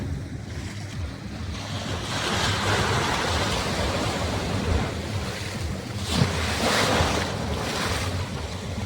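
Sea waves roll and break on the shore at Mousuni Island, a steady, fairly loud surf wash with swelling surges and constant wind rumble on the microphone; no voices.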